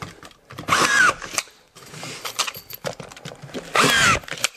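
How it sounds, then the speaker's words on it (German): A power screwdriver drives screws into drywall boards on a prefab house wall, two short whirring bursts close by separated by quieter handling clatter and knocks. "Setz mal ein paar Schrauben"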